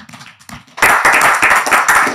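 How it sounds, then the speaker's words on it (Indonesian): Audience clapping breaks out after a few scattered early claps and quickly swells into dense, loud, close applause that continues to the end. "Tepuk tangan boleh nih."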